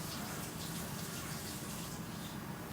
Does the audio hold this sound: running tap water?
yes